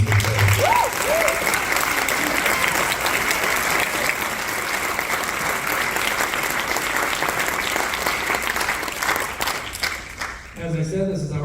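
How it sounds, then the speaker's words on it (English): Sustained applause from a school symphonic band's spring concert audience, honoring the band's colleagues, a thick continuous roar of clapping that fades near the end as a voice and instruments briefly emerge. "So I would like to give another round of applause to my colleagues, Mr. Volnick and Mr. Fay."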